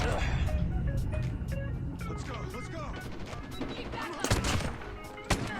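Rapid bursts of QXR submachine gun fire in Call of Duty Mobile ring out in quick repeated volleys with sharp cracks, set against background game sounds and ending in a couple of louder shots.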